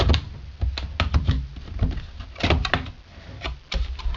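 A Canon SX710 HS camera box being handled and pried open up close, with a series of sharp clicks, taps and scrapes at an uneven pace.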